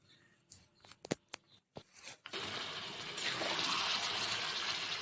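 Water is poured into chicken curry in a pan on a gas stove, a steady gushing splash that starts after a few sharp clinks and continues loud and unbroken to the end.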